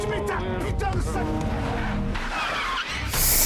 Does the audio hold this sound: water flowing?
no